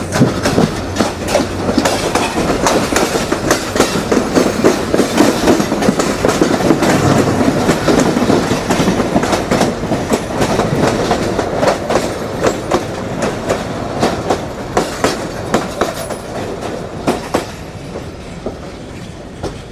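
Mohanganj Express, a broad-gauge train, rolls along the rails toward Dhaka's Airport station, with steady clickety-clack of wheels over joints and rumbling carriages, loud and close throughout.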